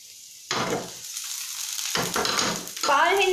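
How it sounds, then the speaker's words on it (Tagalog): Garlic and onion sizzle in a pan, browning in bursts of frying with stirring scrapes between quieter pauses, close by; a faint voice creeps in at the end. "pa-brown yung ahos tsaka yung sibuyas."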